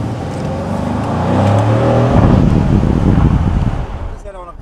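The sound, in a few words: car driving through the Ardennes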